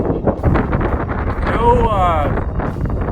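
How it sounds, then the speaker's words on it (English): Gusty wind buffets the microphone on an exposed mountain trail up Black Butte, a steady rushing roar with a voice speaking over it. "It's windy"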